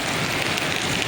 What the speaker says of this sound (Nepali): के हो यो बिना सिजनको झरी परेछ हो र